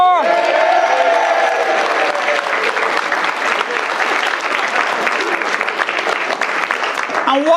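Wedding guests at the Trim Castle Hotel break into loud, sustained clapping and cheering, with whoops and shouts rising above the dense applause at the start and the crowd noise holding steady throughout.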